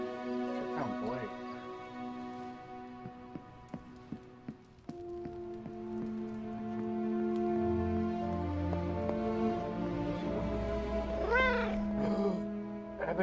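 A pet cat named Ebony meowing a few times, short rising and falling cries heard among steady tonal game music, with no one talking.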